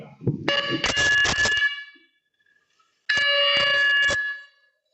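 Quiz buzzers at an inter-college crossword competition final are tested: a loud, harmonic electronic buzz sounds for about a second and a half, falls silent, then a second matching buzz follows, with no talking over them.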